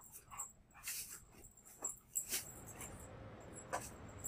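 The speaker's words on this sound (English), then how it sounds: "We'll be hearing a lot of dog." Up close, a dog whimpers and yips in short, breathy bursts over a faint steady background hiss, with no barking standing out clearly.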